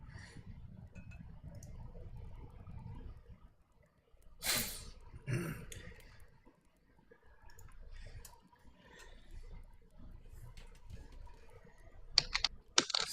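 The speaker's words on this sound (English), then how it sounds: "Someone's got a very noisy push to talk on their keyboard." A noisy computer keyboard used for push-to-talk during an online tabletop game session, giving close bursts of sharp key clicks with quiet gaps and a few louder clacks near the end.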